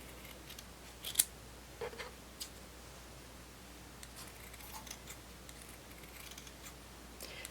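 Quiet snips of scissors cutting fabric around plush toy fins, a few sharp clips and soft slicing sounds spaced irregularly over a faint steady background hum.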